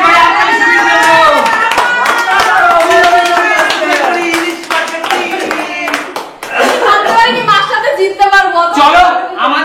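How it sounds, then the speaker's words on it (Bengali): Group of people clapping together, quick dense applause mixed with talking and chatter, close and loud throughout. "চলো চলো সবাই একটা করে হাততালি শুনিয়ে দাও।"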